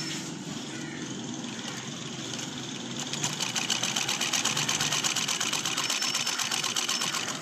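A sewing machine stitching jersey fabric hums steadily and closely, its needle settling into a fast, even mechanical chatter partway through, with no voices over it.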